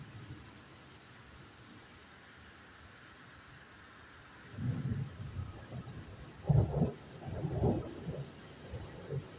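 Rain with a thunderstorm: a faint patter of rain gives way to low rolling rumbles of thunder arriving in several swells, moderately distant and without speech.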